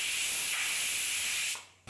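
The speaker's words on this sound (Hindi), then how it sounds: "अब हम कुकर का ढक्कन लगाएंगे और सीटियाँ लगाएंगे।" A pressure cooker's steam whistle hisses loudly and continuously at close range in a kitchen, a broad rushing jet of steam that cuts off abruptly near the end.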